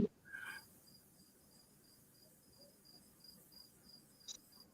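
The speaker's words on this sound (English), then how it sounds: "Them crickets are messing with me." Crickets chirp in short, evenly spaced pulses, faint and far off against a low hiss, with a brief louder tone and a click breaking in near the start.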